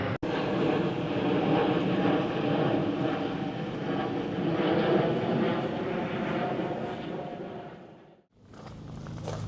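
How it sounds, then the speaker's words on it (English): A propeller or jet aeroplane passes overhead above the grounds of the Tatton Park stately home, a loud steady broadband engine roar lasting several seconds before cutting away abruptly. "There goes an aeroplane."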